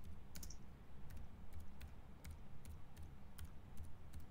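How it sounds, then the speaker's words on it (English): Keys on a computer keyboard tap in a quiet, irregular string of light clicks over a faint low hum, close by, as a search term is typed in ArcGIS. "I just type zonal statistics in the search bar"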